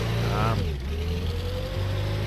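A 1930s-style race car with twin exhausts in the video game Brick Rigs, its engine droning and shifting pitch as it revs and accelerates, under steady talk.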